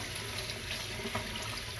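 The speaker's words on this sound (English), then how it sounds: "I'll just put them under running water, the maize and the beans" Tinned maize and beans rinsed under a running kitchen tap: a steady, close stream of water splashing continuously, with no talking.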